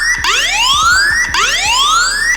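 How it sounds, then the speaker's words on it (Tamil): Alarm siren from an anti-theft phone app, set off by a wrong password: two loud electronic wails, each sweeping steeply upward and restarting, with no talking. "இப்போது உங்களோட பாஸ்வேர்டை தப்பாக போட்டிங்க அப்படின்னா சைரன் வரும்"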